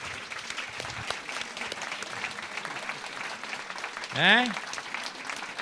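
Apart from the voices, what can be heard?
audience applause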